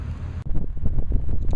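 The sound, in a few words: wind blowing on desert golf course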